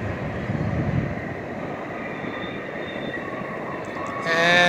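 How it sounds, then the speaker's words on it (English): A low, steady rumble of a Canadian train far off from a campsite at Neys Provincial Park on Lake Superior, sustained throughout, with a brighter rise of sound near the end. "And that's a Canadian train."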